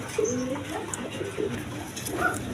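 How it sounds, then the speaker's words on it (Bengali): Koka pigeons coo repeatedly in a loft, several soft rolling calls overlapping at close range with a steady murmur of birds behind. "ওই কোকা দেখেন প্রচুর ডাকা ডাকতেছে"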